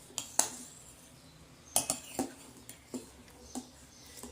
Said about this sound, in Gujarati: હવે આપણે એને હલાવતા રહીશું